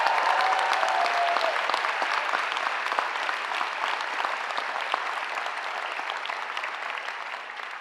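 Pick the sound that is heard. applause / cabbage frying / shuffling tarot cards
applause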